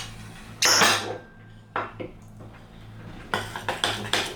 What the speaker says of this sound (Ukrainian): І це все тепер легенько потрібно перемішати.